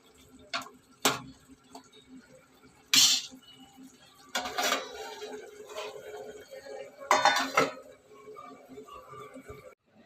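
Dishes and cutlery clink in sharp, scattered knocks as a brinjal, drumstick and dried shrimp curry is spooned into a serving bowl, several louder clatters standing out over a quiet kitchen background.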